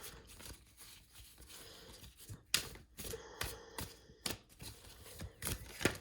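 Tarot cards are shuffled in short crisp riffles and soft slaps, with irregular bursts separated by brief quiet gaps, close and fairly faint.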